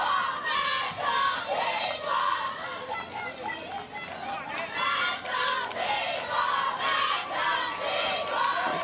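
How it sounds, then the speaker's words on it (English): A crowd at a Little League softball game between Massapequa, New York and Middletown, Delaware cheers and chants loudly and continuously, with children's voices shouting in a steady rhythmic din. "Now you can hear the New York side cheering."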